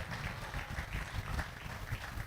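Audience applause at an economic summit follows an introduction of a donor of a building to a university. The clapping is fairly faint and steady across the whole stretch, a dense patter without breaks.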